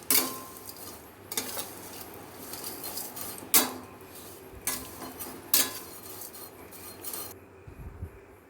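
Ghee-fried semai vermicelli goes into a pot of milk for semai payesh and gets stirred. A metal spoon scrapes and clinks against the pot in repeated strokes over a soft simmering sizzle.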